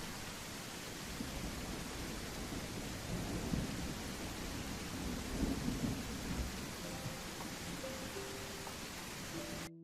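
Steady heavy rain with rumbling thunder in the Relic Bound video game demo, a dense continuous downpour with low rolling swells and no voices.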